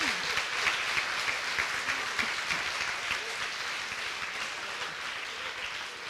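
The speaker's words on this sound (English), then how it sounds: "Maybe one big round of applause for the jury as well." A conference audience at a university network's annual assembly applauds the jury, giving sustained, even clapping from many hands that holds at a steady level throughout.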